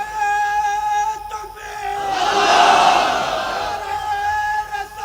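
A large sermon crowd roars the takbir chant Allahu Akbar in unison, swelling to a loud, sustained collective shout in the middle and fading back, with a steady tonal hum underneath.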